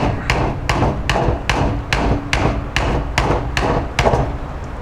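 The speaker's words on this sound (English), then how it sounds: "if you decide to hammer on the end here" Repeated hammer blows strike the end of a Cold Steel Verdict folding knife with a Triad lock, about ten sharp, evenly spaced metallic impacts over a steady low rumble, loud and close.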